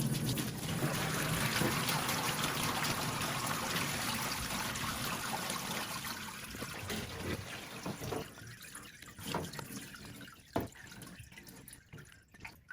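Solvent poured steadily from a container into the tank of a Harbor Freight 20-gallon parts washer, a continuous splashing stream that gradually thins into trickles and scattered drips toward the end.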